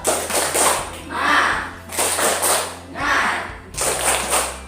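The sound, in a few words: class clapping hands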